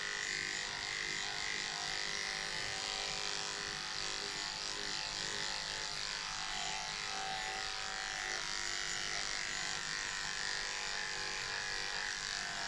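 Electric clippers shaving a Bichon Frise dog's coat, giving a constant steady buzz that runs unbroken and close throughout, with no talking.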